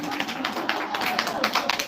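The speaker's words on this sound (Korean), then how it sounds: "자, 박수 한번 주세요." Audience at a lecture clapping together, a short, fairly loud patter of many hands with distinct individual claps, voices talking over it.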